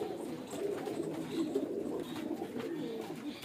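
Fancy male pigeons coo softly in a low, throaty, continuous murmur, close by with faint background noise.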